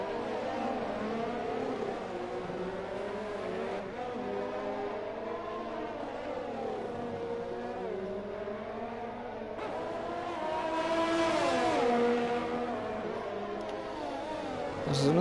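Formula race cars in a racing video game at the Singapore circuit, engine whine rising and falling continuously as cars pass, with a commentator talking over the action.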